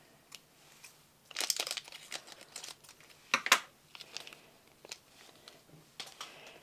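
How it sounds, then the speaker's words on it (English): An art supply package being cut open, crinkly plastic and packaging rustling in short, close bursts with quiet pauses between, two louder crackling moments standing out. "let me cut the package"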